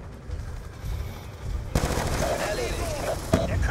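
Rapid bursts of machine-gun fire in Call of Duty: Black Ops 2 crackle continuously, growing louder and denser halfway through, with a sharp shot standing out near the end.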